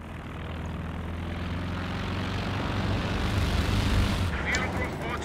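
Propeller airplane flying over in the video game Company of Heroes 2, a steady droning engine roar that swells slightly and holds throughout, moderately loud within the game mix.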